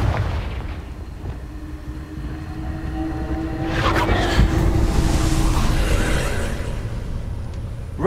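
A Confringo fire spell in Hogwarts Legacy bursts into a deep, rumbling explosion over low game ambience, with a heavier swell midway and a lingering roar that fades slowly.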